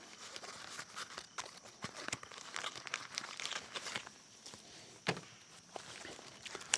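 Close crinkling and rustling as a package of medical tape is handled among trauma kit supplies, with irregular crackles and taps throughout and one sharper snap.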